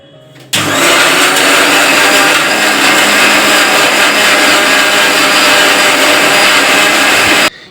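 A mixer grinder grinding masala whirs loudly and steadily for about seven seconds, starting abruptly and cutting off sharply, with no talking.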